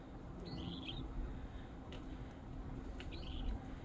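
Small bird chirping in the open, two short high tweets spaced a few seconds apart over a steady low outdoor hum.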